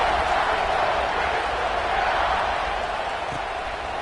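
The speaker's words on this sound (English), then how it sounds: "this crowd is buzzing after that last score" Football stadium crowd keeps up a steady, loud buzzing roar after a score, a broad continuous wash of many voices with no distinct cheers or claps standing out.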